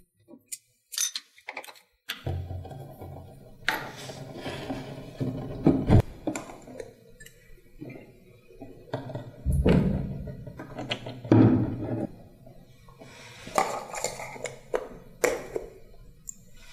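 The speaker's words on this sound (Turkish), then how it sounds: "Yağ filtresini söküyoruz." An enduro motorcycle's oil filter being taken out during routine servicing: close, irregular metallic clicks, taps and brief scrapes of handling the filter cover, separated by short pauses.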